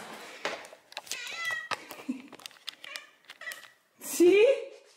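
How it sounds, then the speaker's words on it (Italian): A cat meows loudly and insistently near the microphone, a rising cry at the end following softer sounds, while someone speaks Italian throughout. "Gatto Denver grida"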